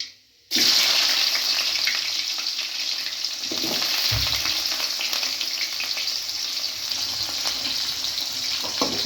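Onions sautéing in oil after mustard seeds splutter, cooking for vermicelli upma: a loud, continuous frying hiss starts abruptly after a brief quiet moment and carries on steadily, with a few stirring scrapes, close up and without talk.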